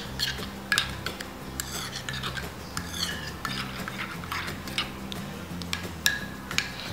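A spoon stirs saffron drops into milk, giving light repeated clinks and taps against the cup or pan, close and fairly quiet, in an irregular rhythm over steady background hiss.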